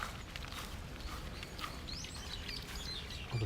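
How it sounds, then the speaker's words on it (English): Songbirds chirp and call in a Tokyo park on an afternoon walk, their scattered tweets faint and somewhat distant over a steady outdoor background hum. "Listen to some birds."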